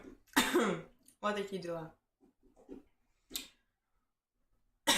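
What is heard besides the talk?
coughing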